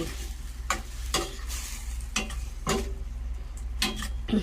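Chicken adobo sizzles softly in a pot while a utensil scrapes and stirs in a steady, repeating rhythm of about eight strokes, close by.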